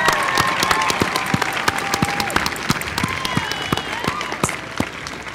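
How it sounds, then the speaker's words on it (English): Crowd applause at an outdoor holiday tree lighting ceremony, dense clapping with sharp individual claps close by, while a faint whistle or cheer rises over the steady ovation. "Let's give them all a good round of applause."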